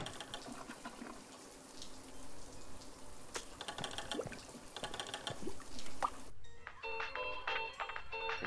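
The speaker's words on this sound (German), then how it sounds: "Oh, Wasserrohrbruch." Burst water pipe gushing in the video game The Tenants: a steady, rushing spray of water runs for several seconds alongside game sounds, then gives way to a tonal musical jingle.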